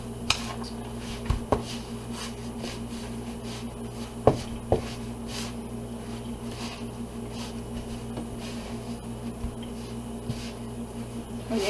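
A spoon stirs and scrapes through homemade biscuit dough in a bowl, giving a soft, steady rubbing texture with a few light taps of the spoon against the bowl over a faint background hum.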